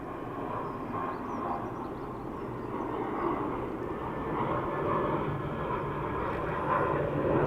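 A Ryanair airliner arriving from Seville at Dublin Airport, its engines a steady, loud, broad roar that holds throughout and swells slightly toward the end, with no talk over it.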